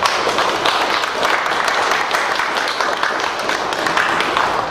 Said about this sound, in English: So we should give him a very large round of applause for that.